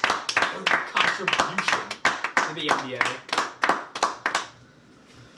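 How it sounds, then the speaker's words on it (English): A small group breaks into a round of applause during a basketball podcast, brisk close hand clapping that runs for about four seconds under a few spoken words, then stops abruptly into quiet room tone. "May I be so bold as to ask for a round of applause for Boban"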